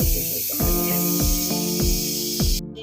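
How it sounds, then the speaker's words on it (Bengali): Pressure cooker venting steam, a steady loud hiss with a repeating pulsed rhythm of regular puffs about every half second, heard alone close up. "জানি না এই কোম্পানির প্রেশার কুকার এরকম আওয়াজ কেন করে"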